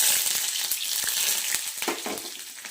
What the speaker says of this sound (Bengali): এবার আমি তেলে পেঁয়াজ কুচি দেব